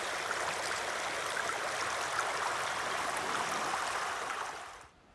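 Stream water flowing steadily through a forest flood plain, a dense close hiss and rush that stays even for several seconds before cutting off abruptly near the end.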